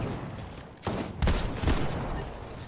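Gunfire in a multiplayer shooter video game: a few sharp shots and bursts crack over a constant noisy backdrop, fairly faint, with no speech over them.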